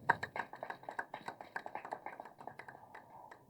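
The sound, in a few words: applause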